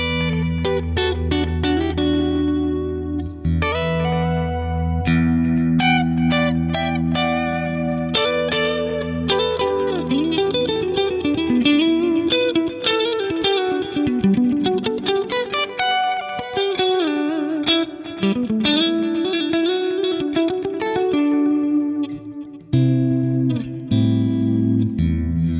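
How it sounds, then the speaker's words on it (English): Electric guitar played through a dirty, distorted amp modelled on an Axe-Fx III, with an ambient-style delay trailing each phrase; sustained lead notes and chords ring out steadily and loud, with echoes and wash filling the gaps, no voices. "this is like an ambient style delay"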